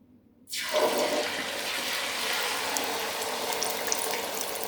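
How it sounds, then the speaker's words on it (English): A seasoned egg omelette mixture hits a hot frying pan with a sudden loud sizzle that carries on as a steady hiss, with no talk. "We should hear a sizzle."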